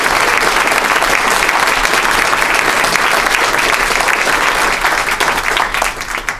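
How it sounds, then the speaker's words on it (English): Loud, sustained clapping from a forum audience greeting four Supreme Court justice candidates, a thick, even wall of applause that holds steady and eases slightly in the final second. "give a huge round of applause to our four candidates"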